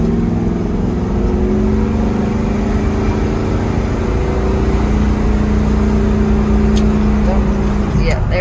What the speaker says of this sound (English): We got the Oldsmobile Cutlass, taking it on a test drive.